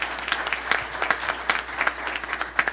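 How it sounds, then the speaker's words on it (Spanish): Moderately sized audience claps for a guest at a corporate governance event, with individual sharp claps distinct within a fairly sparse, steady round of applause. "es con un fuerte aplauso"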